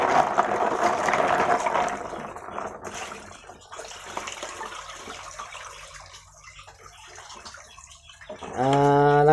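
Snails being washed in a basin, water sloshing and pouring out in a loud, splashy rush that fades, followed by a brief burst of tonal music at the end.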